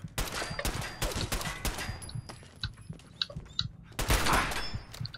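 Rapid bursts of gunfire in Fallout 4, sharp repeated shots in quick clusters with brief pauses, ending in a heavier volley.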